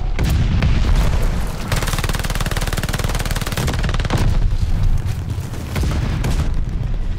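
Rapid, sustained automatic fire from a PPSh-41 submachine gun in a Call of Duty Vanguard team deathmatch on a Berlin map, loud and dense bursts with booming impacts running almost without pause.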